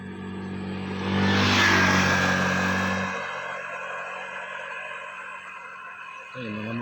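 Yamaha Mio motorcycles pass along a rural road past fields, their engines swelling to a peak as they go by, then easing off and fading into the distance.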